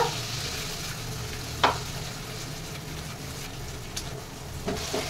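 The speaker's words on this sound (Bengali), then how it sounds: "এবার মশলাটাকে আমি ভালোভাবে কষিয়ে নেবো" Spice paste for a bottle gourd curry fries in a pan with a steady, close sizzle, and a few sharp spatula clinks and scrapes stand out from it; no one speaks.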